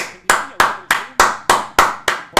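Rhythmic hand clapping at a football match, the crowd applauding Di María in PSG's win over Leipzig; eight sharp, evenly spaced claps, loud and close, with no voices over them.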